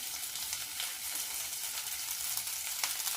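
Green chilli, garlic and ginger fry in refined oil in a pan, producing a dense, even hiss of sizzling that holds steady throughout, close and fairly loud, with no voices.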